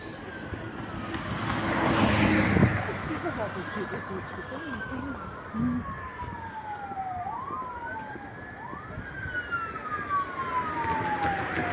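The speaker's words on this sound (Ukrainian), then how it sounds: "Поліція, швидка їде." Wailing police and ambulance sirens rise and fall as the vehicles pass at a moderate distance along the Vltava embankment in Prague 5, their tones sweeping up and down over steady road noise.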